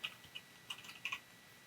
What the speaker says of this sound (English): by pressing L on the keyboard